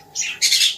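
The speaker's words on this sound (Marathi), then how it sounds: "वेगवेगळ्या व्हरायटीज मध्ये टेम नॉन टेम सगळे बर्ड्स आपल्याकडे आलेले आहे" Birds in a pet shop's newly arrived stock, two sharp, close squawks in quick succession, loud and alone.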